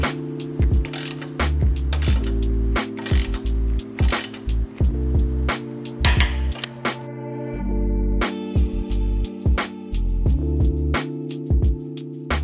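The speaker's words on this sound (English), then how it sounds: "So I'm just going to tighten these down as much as I can with a regular normal ratchet" A regular hand ratchet tightens bolts on the recovery points of a 2022 or later Toyota Tundra, sounding as rapid, close clicking bursts with clanking metal between strokes.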